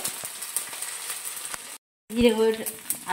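Spices tipped one by one into a hot pan for a potol and prawn curry give a steady close sizzle, briefly cut to silence, then a louder burst of frying with voices murmuring over it.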